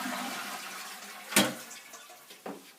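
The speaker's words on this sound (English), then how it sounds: "we're going to flush all the water out from the cistern" A Caroma Stylus toilet cistern flushes with a steady, moderately quiet rush of draining water, broken by two short clunks partway through.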